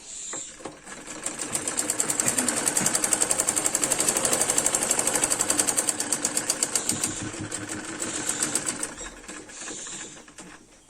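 A sewing machine stitches fabric for a Patiala salwar, a continuous rapid mechanical whirring and clatter that starts, runs steadily for several seconds, and then winds down.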